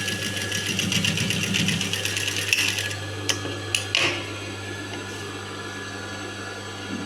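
A sewing machine stitches rolled piping onto a blouse with a steady, close whirring run that stops about three seconds in, followed by a few sharp mechanical clicks and then quiet room noise.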